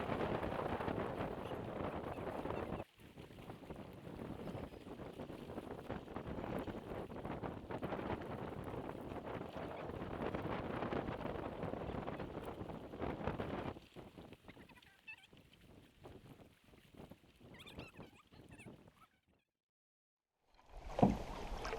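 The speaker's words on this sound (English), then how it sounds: "So it's windy right now and we're exposed" Wind gusts across an exposed lakeshore campsite in Queen Elizabeth II Wildlands during a canoe trip. It rumbles and buffets steadily, eases off later, and cuts to near silence just before the end.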